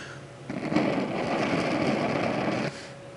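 Someone blows hard and steadily at a Coghlan's waterproof fire stick flame for about two seconds, a close, breathy rushing roar that starts and stops abruptly.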